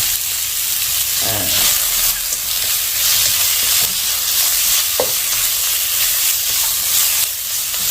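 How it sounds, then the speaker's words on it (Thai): Minced pork stir-fried over high heat, a loud, steady sizzle and hiss with occasional scrapes and clanks of the spatula in the pan, continuous and close throughout, with no voices. "รวนไปนะครับเพื่อมันสุก"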